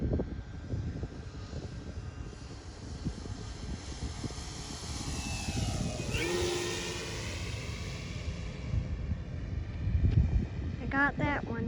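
An RC Pilatus PC-6 Turbo Porter model airplane, a VQ/Nexa 107-inch scale turboprop, makes a low pass, its engine whine rising, sweeping past and fading over steady outdoor noise, with voices briefly near the end.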